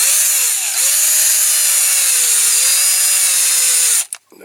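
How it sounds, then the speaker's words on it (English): A power drill with a worn, bent bit whines steadily as it drills out the axles of a Dinky Toys Maserati racing car, its pitch dipping once under load before cutting off with a short rattle. "I think that's my knackered drill bit"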